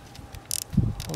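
Rifle scope turret dialed up for a 100-yard shot, a short run of small mechanical clicks close by, ending in a louder rotational rasp.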